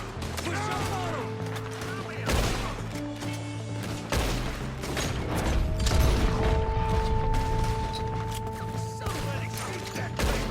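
Gunfire crackles through a Red Dead Redemption 2 shootout, with repeated shots and mechanical clatter under a steady drone and music, voices shouting at times in the mix.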